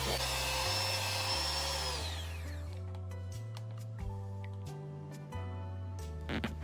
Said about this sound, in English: continue beating until the cream forms stiff peaks